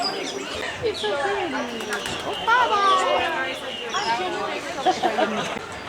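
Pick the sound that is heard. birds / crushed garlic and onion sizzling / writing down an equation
birds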